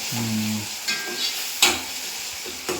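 Liver frying in a pan with onion and tomato, a steady sizzle broken by a few sharp stirring scrapes and clinks of a spatula, no voices.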